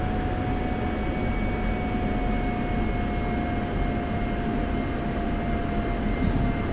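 An F-16 jet taxiing in a flight simulator game gives a steady, loud engine drone with a constant whine held throughout and no talking.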